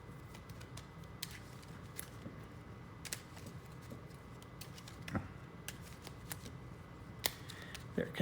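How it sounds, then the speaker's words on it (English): Cards from a solo board wargame are shuffled by hand: soft papery riffles and scattered sharp card snaps at low volume, with no speech. "So now I'm going to shuffle the Soviet cards and we're going to draw 2."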